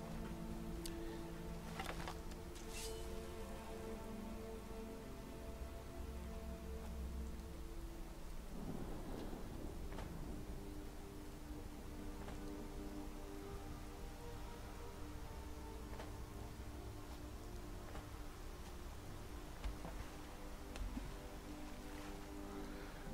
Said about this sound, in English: Oh, I don't remember getting those lightning effects before.